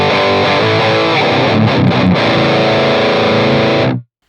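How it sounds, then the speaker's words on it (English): Heavily distorted metal guitar riff played through an Audio Assault Crown amp simulator with the tight switch engaged, dense and loud with a controlled low end, continuous chugging for about four seconds before cutting off abruptly. "Let's turn on the tight switch."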